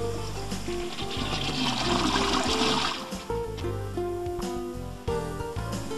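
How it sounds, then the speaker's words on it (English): Water rushes steadily out of a toilet tank as it drains while the flush handle is held down, a continuous close gurgling wash that rises and then eases, with no talking. "drain the tank by holding the flush handle down until"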